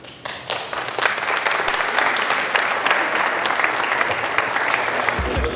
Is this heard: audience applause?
yes